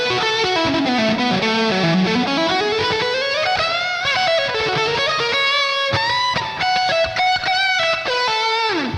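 Electric guitar through an Enya Nova Go Sonic's distortion channel with 5-band EQ, modulation off and reverb turned up, plays loud, continuous distorted lead lines with slides and bends, close and alone.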